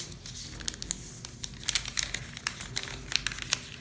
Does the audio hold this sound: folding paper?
yes